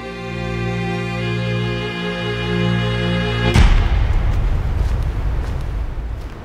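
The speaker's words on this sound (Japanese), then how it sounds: "銃声。" A sudden gunshot in the film Evil Does Not Exist breaks off a sustained tonal drone, leaving a loud, lingering noisy wash afterward.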